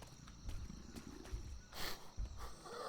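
A big cat in the survival game Atlas attacks and devours a wolf, giving a few loud, close growling roars and rough snarls over low rumbling scuffle noise, with a burst of harsh noise partway through.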